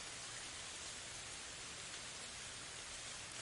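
Continuous rain falls at a steady rate, a thick, uniform wash of drops that stays level from start to finish with nothing else heard.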